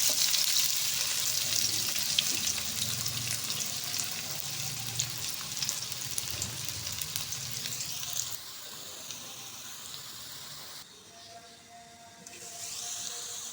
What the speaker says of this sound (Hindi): ये देखिए प्याज गोल्डन हो रहा है।